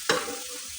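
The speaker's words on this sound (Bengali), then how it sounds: "এই যে ঘিয়ের সાথে হচ্ছে আমি মিক্স করে নিচ্ছি হালুয়াটা।" Carrot halwa stirred and frying in melted ghee: a brief scrape of the spoon, then a steady soft sizzle continuing underneath, close and moderately quiet with no voices.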